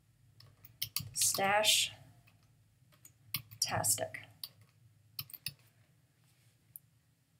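Keyboard keys click in short, scattered bursts of typing on a computer, entering text for a Cricut Explore card design, while a voice speaks briefly over the light tapping.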